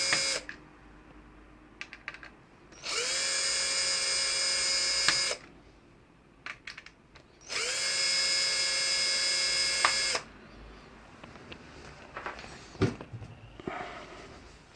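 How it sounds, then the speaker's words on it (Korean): A power screwdriver backs out the screws of the CPU socket support bracket on a motherboard for an AMD Ryzen 3 2200 desktop build. Two whirring bursts of a few seconds each are separated by quiet handling clicks. "소켓 자리에 박혀 있는 지지대를 제거를 하겠습니다."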